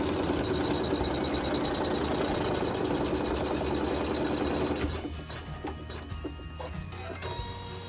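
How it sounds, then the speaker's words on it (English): A sewing machine runs steadily, sewing satin stitches on quilt block fabric, with a dense continuous whir that drops in level and thins out near the end. "we're going to sew the satin stitches"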